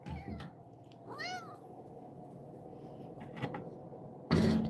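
A cat meows once, rising and falling, fairly close amid quiet room noise, followed later by a brief louder thump.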